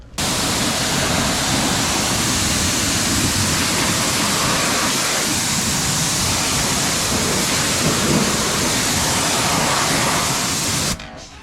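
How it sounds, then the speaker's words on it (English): A continuous loud, close rush of water as an off-road RZR is hosed down and rinsed, a steady broadband spray hiss with no breaks, ending abruptly. "we'll go ahead and give that a rinse"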